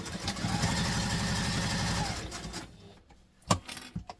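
Sewing machine running a long continuous burst of construction-length stitching on a Wayfarer II backpack, steady rapid mechanical whirr for about two seconds, then stopping, followed by a few faint clicks and handling knocks.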